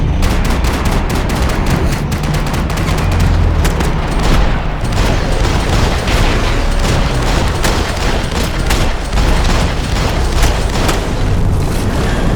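Dense, loud gunfire in the Max Payne 3 video game, with continuous rapid shots and booming impacts layered over each other throughout, a sustained chaotic firefight with no pauses.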